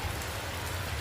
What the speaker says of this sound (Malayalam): മഴയാണ്, നല്ല മഴ ഉണ്ട്.